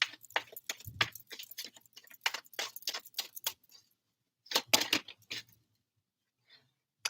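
Tarot cards being shuffled by hand during a reading, a quick series of crisp riffling bursts with short pauses between, soft and close, a longer gap before a final cluster.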